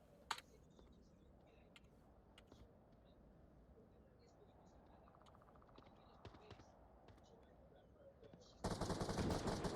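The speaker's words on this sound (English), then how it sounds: "Already some gunshots there" Scattered sharp gunshots crack at a distance in the VR shooter game Onward during a competitive league match, with sporadic bursts over a steady noisy background, ending in a loud burst of noise.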